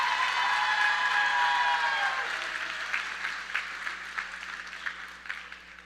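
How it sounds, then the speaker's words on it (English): Applause from a high school graduation ceremony audience, a dense wash of many hands clapping that is loud at first and then thins gradually, leaving scattered claps toward the end. "Let's give a big round of applause for Mr."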